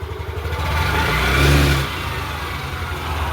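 A scooter engine, just back from carburetor, petcock and fuel tank cleaning, revs up in one swell near the middle and then settles back to a steady idle, close and loud.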